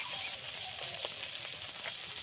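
Potato pieces with salt and turmeric frying in oil in a pan in a village kitchen, a steady soft sizzle with occasional scrapes of stirring.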